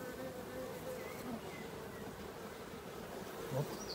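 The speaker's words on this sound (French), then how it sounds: "écoutez, petite poignée d'abeilles, mais c'est bien parti" A steady, dense drone of many honeybees buzzing close together in a hive, continuous and even, with no talking.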